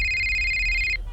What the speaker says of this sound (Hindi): तभी डॉक्टर के फोन की रिंग बजने लगी।